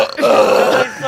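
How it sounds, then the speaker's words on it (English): A single loud, long belch from a person, a close, throaty eructation lasting about a second. "Do a bit loud ass belch."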